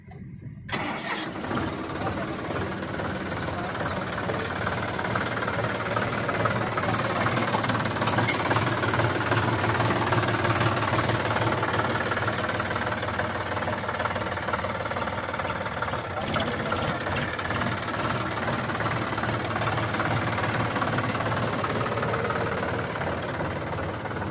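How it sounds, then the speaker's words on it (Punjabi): A John Deere 5050D tractor from 2017 cranks and fires, then settles into a steady, loud diesel idle that runs unbroken for over twenty seconds, close by with no talking. "ਲੋਕੇ ਸਟਾਰਟ ਕਰਕੇ ਟਰੈਕਟਰ ਦਿਖਾ ਦੇ"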